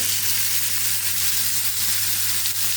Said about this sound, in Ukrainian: Ось такі стейки в лучку у нас.